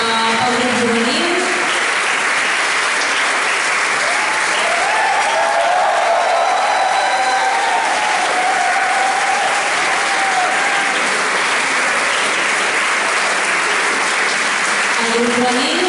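A large audience applauds a youth folk dance group after their performance, sustained dense clapping for about sixteen seconds, loud and steady, with faint voices mixed in.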